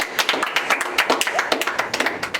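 A small school audience claps in a quick, uneven burst of distinct hand claps, fairly close and bright, lasting a couple of seconds with no one talking.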